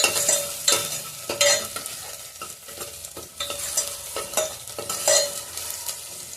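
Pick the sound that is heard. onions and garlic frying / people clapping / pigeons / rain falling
onions and garlic frying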